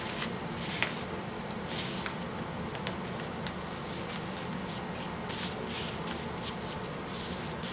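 A sheet of paper is folded and creased for a wall decoration, giving soft close rustles and crisp swishing bursts at an uneven pace over a quiet background.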